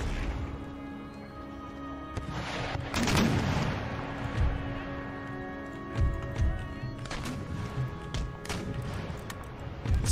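Musket volleys in Empire Total War crackle as scattered gunshots and a louder burst, mixed with booming battle noise and rumbling movement across a busy field.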